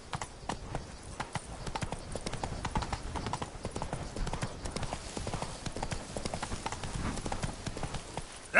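Hoofbeats of Roach, the horse in The Witcher 3 video game, a brisk rhythmic clip-clop at a steady gallop-like pace, close and continuous throughout with no speech.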